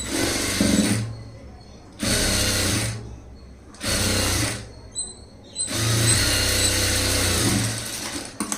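A sewing machine stitching blouse fabric in loud bursts of rapid whirring, four runs of a second or more separated by short pauses, close up and with no talking.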